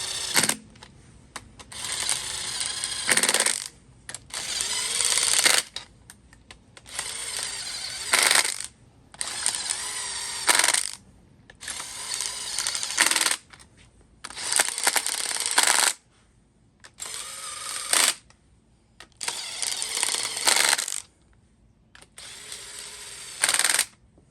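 Engine bolts on a Ford camper van being run down with a power tool, a series of about nine loud whirring bursts separated by short pauses, close up, with no talking.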